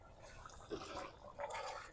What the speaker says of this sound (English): I added a little more water.